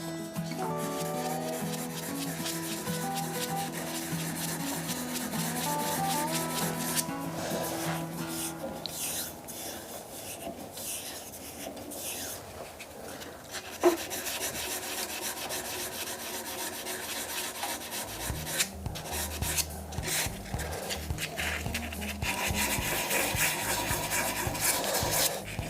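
An epoxy resin shaving brush handle being hand sanded, with continuous rhythmic rubbing strokes close up, steady and moderately loud throughout, a single sharp tap midway and a brief steady tonal hum underneath.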